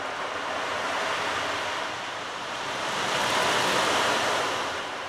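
An ocean drum imitates breaking waves: a soft, steady hiss of rolling beads that swells to a louder peak partway through and then eases off, heard alone without voices.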